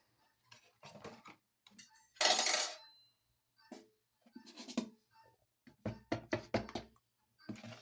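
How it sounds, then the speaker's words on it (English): Flour being sieved by hand for a homemade cake, a string of light tapping and knocking as the sieve is struck, plus a short soft rushing burst, all close and quiet with no talking. "that's how we are sieving our flour"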